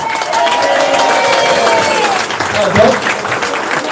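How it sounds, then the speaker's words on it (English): A crowd at a charity fundraiser applauds and cheers for a guest, with a busy mix of clapping, crowd noise and voices talking throughout, loud and near. "Give this man a round of applause."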